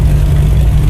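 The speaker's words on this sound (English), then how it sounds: "It's the engine starter." Avia BH-5 plane engine starting in a flight simulator game, a loud, close low rumbling drone that holds steady through the brief moment.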